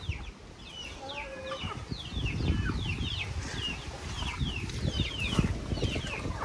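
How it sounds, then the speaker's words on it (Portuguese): Chickens wander loose in the morning on a Brazilian smallholding, clucking and calling repeatedly at a moderate distance over a low outdoor background rumble. "amanheceu essas galinhas soltas"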